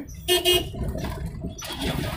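Two short car horn toots sound close by while a car overtakes on a road, followed by steady engine and road noise.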